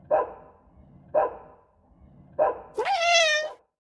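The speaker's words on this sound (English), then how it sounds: "What's that dog barking at?" A dog in the video game Piper's Pet Cafe barks three times in short, evenly spaced bursts, then lets out a longer whining yelp; clear and fairly close, with no talking.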